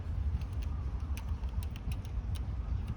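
Stiff front cable housings on a Litespeed T1SL bicycle creak under load as the handlebar turns, giving a series of small, sharp ticks and crackles over a low background rumble, close up and without talk.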